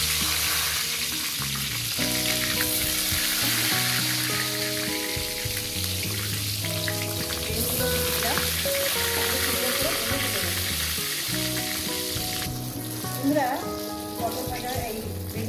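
Beans sizzle and fry steadily in a hot pan, a continuous crackling hiss running the whole time beneath prominent background music.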